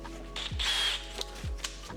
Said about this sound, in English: let's just drill 2 holes through that